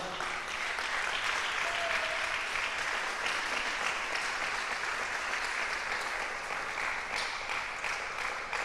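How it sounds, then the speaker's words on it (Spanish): Church congregation applauding steadily throughout, a dense, sustained wash of clapping from many hands with no break, filling the hall at even loudness. "No sé si le da un aplauso al Señor."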